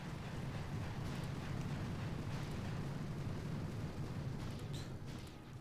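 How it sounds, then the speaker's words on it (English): Artillery barrage in the mobile strategy game Boom Beach on a volcano island stage, a steady low rumbling roar of blasts that stays loud and continuous without a pause. "But what we are going to do over here is send in 1 barrage."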